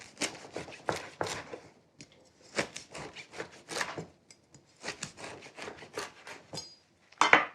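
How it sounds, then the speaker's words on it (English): A knife cuts bone marrow bones and other food on a cutting board in a kitchen. Repeated crisp close slicing and scraping strokes come in short bursts with brief pauses between, and no talking. "you can cut nice slices without fear of cutting yourself, just like that"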